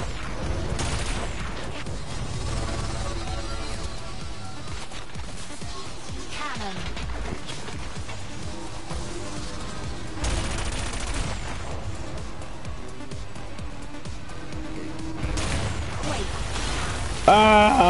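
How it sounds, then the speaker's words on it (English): Cannon weapon in the futuristic racing game Wipeout Omega Collection firing in dense repeated bursts over roaring race sound and music, loud and continuous, with voices talking over it. "We got a cannon, baby."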